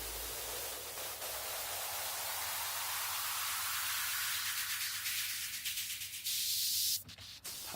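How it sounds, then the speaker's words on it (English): Steady broadband hiss fills the clip, a constant rushing noise that swells brighter toward the end, with a sharp burst near the close. "Now the white noise will sound good mixed in."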